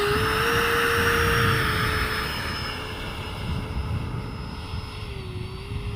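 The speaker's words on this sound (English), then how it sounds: "got the FMS 70mm F-18 flying on a 4200 milliamp battery" An FMS 70mm F-18 electric ducted-fan RC jet flies outdoors on a 4200 mAh battery with flaps set, giving a steady whining roar with a high tone that shifts in pitch as the jet passes, and no one speaking.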